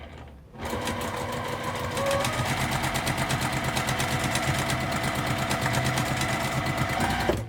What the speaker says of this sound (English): I'm just sewing right off the edge and taking the next one